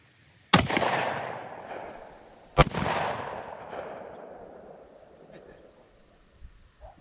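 Two sharp gunshots, about two seconds apart, strike a target of Kevlar and ballistic nylon, each a loud crack followed by a long rolling echo that fades into outdoor quiet.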